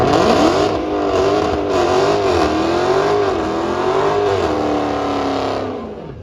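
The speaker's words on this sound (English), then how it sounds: "it wasn't a very long burnout, was it?" A 2002 Ford Mustang GT doing a short burnout, its engine roaring loud and close with rising and falling revs and tire noise, sustained without a break and easing off at the end.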